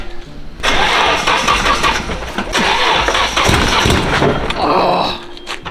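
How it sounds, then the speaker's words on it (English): A vehicle engine is started while in gear on a costly custom build: a loud crank catches and runs in a rough, steady rumble, close by and filling most of the clip, with voices faintly underneath. "I'm gonna start it in gear."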